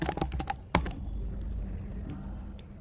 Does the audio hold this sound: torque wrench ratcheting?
no